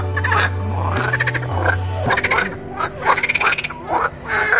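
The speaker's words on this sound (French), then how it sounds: "je sais pas si vous entendez. Les grenouilles." A chorus of frogs croaking loudly and close by, with rapid rattling trills and deeper steady croaks overlapping throughout.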